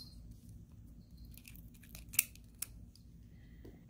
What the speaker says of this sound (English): So we'll just cut off a little wire here